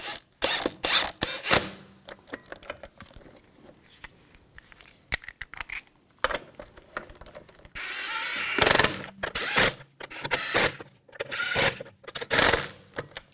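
Lug bolts on a 2000-2006 BMW X5 wheel are threaded in by hand, giving sharp metallic clicks and ratcheting rattles in irregular bursts, close by, with a short steadier mechanical whir near the middle.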